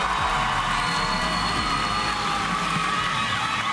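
A crowd at a taekwondo demonstration cheers and whoops steadily, a dense wash of voices and applause that holds at the same level throughout.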